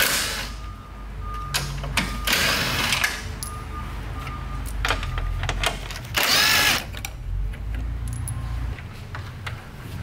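A power tool spins a 10 mm socket to remove the grille on a 2009-2018 Ram 1500 pickup. Loud repeated whirring bursts come with metallic rattles and clanks up close, and no one speaks.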